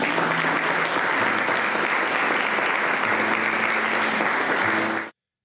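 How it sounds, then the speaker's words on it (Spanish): A church congregation applauds in a dense, sustained wash of clapping that holds steady for about five seconds, then cuts off abruptly. "¿Cuánto le dan un aplauso al Señor?"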